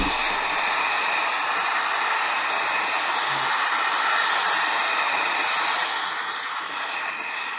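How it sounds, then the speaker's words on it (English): A heat gun blows hot air in a steady, loud broadband hiss throughout, used while finishing a Kawasaki KZ400 street tracker cafe racer motorcycle build, with no talk over it. "We have a heat gun right here."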